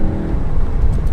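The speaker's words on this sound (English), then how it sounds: "It is quite a refined or quiet exhaust" A VW Golf GTI Mk7.5 with 230 PS runs with a refined, quiet exhaust, a steady low engine drone from inside the car while driving, brief and without talk.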